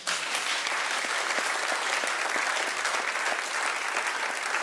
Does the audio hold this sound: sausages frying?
no